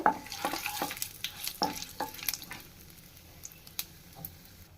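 Whole spices—dried chillies, cinnamon sticks, cardamom, cloves and cumin seeds—frying in hot oil for a potato curry, with a soft steady sizzle and a few sharp spatula scrapes and taps early on, fading to a quieter hiss.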